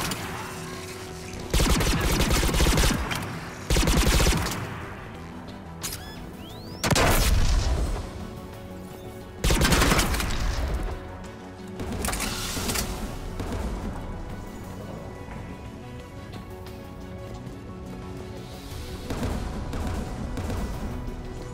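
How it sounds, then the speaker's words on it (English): Anti-aircraft guns in Mass Effect 3: several loud booming volleys, each a second or two long and a few seconds apart, then a lower rumbling, crackling barrage that carries on under a dense game soundscape. "AA guns ahead of us."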